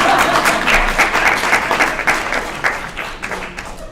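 An audience at a training-series closing session claps in a burst of applause that stays full, then gradually thins and fades over a few seconds.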